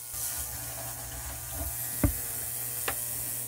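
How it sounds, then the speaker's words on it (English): Water trickling into a container to raise its level during pen cleaning, a soft continuous running sound with a couple of sharp clinks or taps standing out over a low background hum. "Maybe I'll add a little more water to raise the level."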